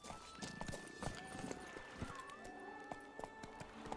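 Horse hooves clip-clopping in The Witcher 3, a steady rhythmic trot of sharp hoof strikes with occasional game tones and a faint snort in the background.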